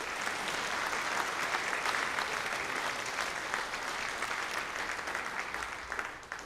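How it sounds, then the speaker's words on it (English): Sustained applause from an audience at a high school scholarship and awards ceremony, many hands clapping steadily for award recipients, even and moderately distant, fading slightly toward the end. "let's have one more round of applause for these award recipients"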